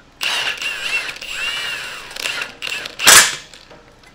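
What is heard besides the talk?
heavy duty Milwaukee impact driver snugging a cutter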